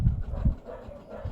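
Several dogs bark outdoors, a few muffled, low bursts spaced across a second or so, heard from some distance.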